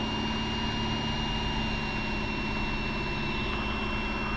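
A steady engine drone runs unbroken throughout, a Piper PA-28 light aircraft engine humming evenly at moderate level with a constant tonal whine on top.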